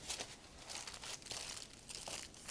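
Double layer of aluminum foil pressed into a baking dish, crinkling and crackling steadily and close up for the whole stretch, with no voices.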